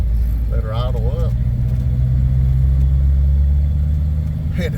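A 1940 Ford Sedan Deluxe engine runs steadily with a low, continuous drone, a brief speaking voice briefly laid over it near the start as the car drives and shifts into second gear.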